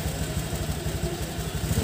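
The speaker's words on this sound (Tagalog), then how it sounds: "Gumagana pa, tama na. Sige, patay makina." A Honda Click 125 Version 3 scooter's engine runs at a steady idle, a close, continuous low pulsing putter with no speech over it.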